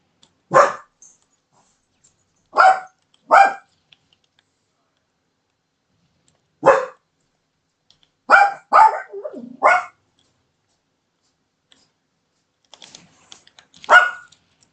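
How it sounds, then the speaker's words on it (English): Dogs bark in sharp isolated bursts from nearby, about eight barks spaced irregularly across a quiet room, with faint keyboard tapping between them. "Sorry if you can hear my dogs."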